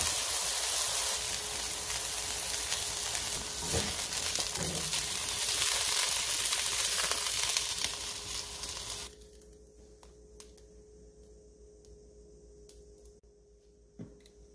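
Flipped king oyster mushroom slices fry in a wok with a little added oil, crackling in a steady, fairly loud sizzle. It cuts off abruptly, leaving near-quiet with a few faint clicks.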